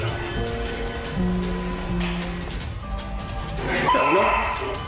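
An alarmed dog barks in a burst of sharp yips and whimpers indoors at night, loud and close, over a steady electronic hum.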